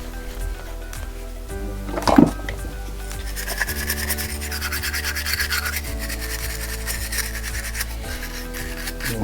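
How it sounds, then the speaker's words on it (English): A small brass wire brush scrubs the corroded edges of an aluminium motorcycle master cylinder part, giving a steady rasping rub that continues throughout at close range, with one brief louder knock early on and no talk. "Little brass wire brush just to clean up the edges of this aluminium"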